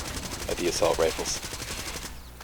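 A silenced assault rifle in Far Cry 2 fires a rapid automatic burst of muffled, thumping shots, close and steady, with someone talking over the gunfire.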